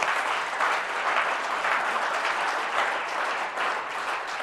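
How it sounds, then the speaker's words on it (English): Steady audience applause at a Tea Party meeting, dense and sustained hand clapping from a crowd, fairly close and continuous throughout with no talking over it. "we owe ourselves a hand clap for that"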